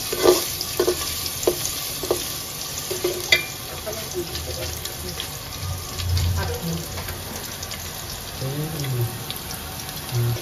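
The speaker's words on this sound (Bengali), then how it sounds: "এই যে আমার পেঁয়াজটা আর আদাটা ভাজা হয়ে গেছে।" Chopped onion and ginger fry in a pot on the stove, a steady low sizzle with scattered clinks and scrapes of stirring, moderately close with no talking.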